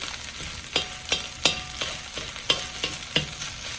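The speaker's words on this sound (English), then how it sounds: "Add the egg back in. Make sure that I'm breaking it up properly." Egg being stir-fried into Thai crab fried rice in a hot pan, a constant sizzle broken by sharp, repeated scraping and tapping of the spatula about every half second, close and clear, with no voices.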